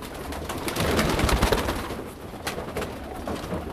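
Pigeons coo softly with low, rolling calls in a loft, heard under rustling and faint background noise.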